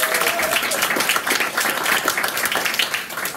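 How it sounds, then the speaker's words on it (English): A crowd at a family event applauds an apprentice introduced at the door, a steady dense clapping at moderate level through the whole stretch, with a voice faintly audible underneath. "Give him a round of applause"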